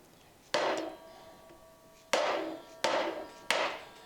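Mallet blows tap a main drive bearing into the case of a DeWalt DW-708 compound sliding miter saw: four sharp, fairly loud knocks, one alone then three in quicker succession, each with a short ringing decay.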